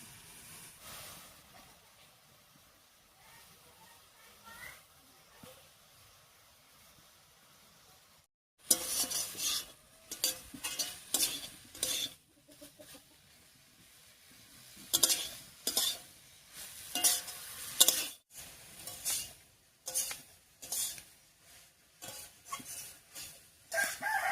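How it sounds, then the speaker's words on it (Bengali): Giant taro stems are stirred in a cooking pan, a spatula scraping and clattering in bursts over a faint sizzle, while a rooster crows in the background. "সবগুলো মানকচু দিয়ে খুব ভালো করে নাড়িয়ে নিলাম"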